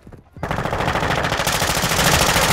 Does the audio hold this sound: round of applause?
no